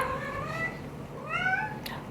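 A cat meows close by in a few rising, wavering calls, with a short scuffle at the end.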